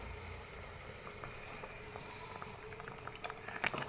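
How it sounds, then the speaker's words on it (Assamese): Fish curry with bottle gourd bubbling at a steady boil in a pot over a high flame, a continuous close simmering hiss with small pops growing slightly busier toward the end. "এয়া দেখিছেনে কি ধুনীয়াকৈ উতলি আছে।"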